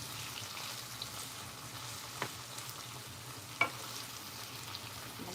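Food sautéing in a pan, giving a continuous crackling sizzle with occasional light ticks from stirring, moderately loud and steady, with no voices.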